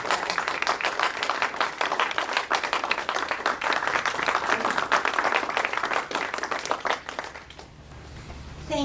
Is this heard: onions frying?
no